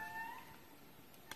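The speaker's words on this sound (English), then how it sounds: "That is the call of the Indri, the largest species of lemur." An indri, the largest lemur, gives a brief wailing, tonal cry in a Madagascar forest reserve, faint and distant, fading after a moment.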